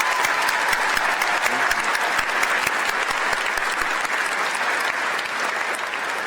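Dense, steady applause from a large crowd fills an inauguration ceremony hall, continuous and loud from start to finish with no pauses.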